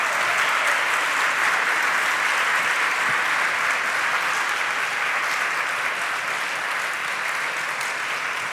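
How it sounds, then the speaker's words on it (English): Loud, sustained applause from a large crowd at a nuclear ban forum's main stage, honoring campaigners from around the world, a thick continuous roar of clapping holding steady throughout. "our amazing campaigners from around the world deserve one more round of applause"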